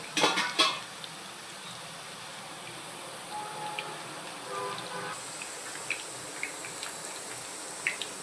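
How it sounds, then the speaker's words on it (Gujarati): Thin red-potato wafers sizzle and crackle steadily, foaming in hot oil, with a few sharp clinks of a utensil against the pan at the start. "દેખો આપણે ફ્રાય કરી રહ્યા છીએ ફીણ થઈ ગયા છે"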